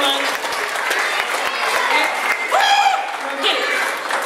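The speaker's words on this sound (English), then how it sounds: "Give yourselves a round of applause because you guys were awesome." Crowd applause fills the room at a night event for Big Thinkers, a steady dense wash of clapping with voices and cheers mixed in throughout.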